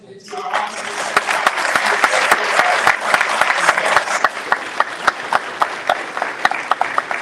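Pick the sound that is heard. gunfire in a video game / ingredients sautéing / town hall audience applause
town hall audience applause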